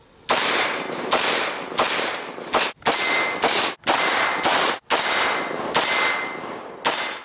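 The quick-detach swivel of a Magpul MS4 sling is pressed and released over and over, giving about ten sharp, loud metallic clacks at a steady, roughly even rhythm, close up and with no voices.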